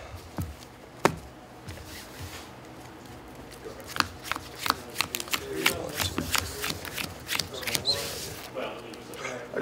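Magic: The Gathering deck being shuffled by hand at a Pioneer tournament table, repeated crisp riffles and card snaps in quick bursts, close and clear, with people talking now and then.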